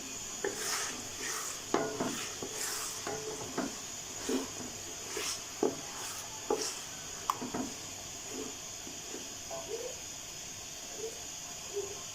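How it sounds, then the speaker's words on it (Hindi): Chicken frying bhuna-style over medium heat, a steady hissing sizzle with repeated spoon stirs and scrapes against the pan at an even rhythm throughout. "और इसे मीडियम आंच पे अच्छे से भून लेंगे चिकन को।"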